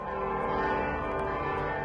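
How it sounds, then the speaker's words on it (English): Church bells of Holy Name Cathedral in Chicago ring continuously in celebration, their overlapping tones hanging in a thick, sustained wash. "Bells rang out in celebration at Chicago's Holy Name Cathedral."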